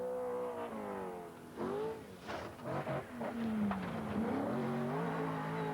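Rally car engine revving hard on a 1982 rally stage, rising and falling pitch through gear changes, heard from a moderate distance on an old broadcast recording.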